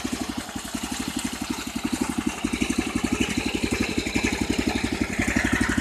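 Small Sears 301cc Predator single-cylinder engine from 1977 idling after a cold start, a rapid, even putter of regular firing pulses up close, slightly uneven and growing a little louder, with no talk.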